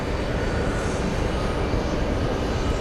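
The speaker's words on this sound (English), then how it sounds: "Eva Air is going around." An EVA Air airliner going around at JFK airport, its engines a steady broadband roar that holds loud and unbroken throughout, with no talk over it.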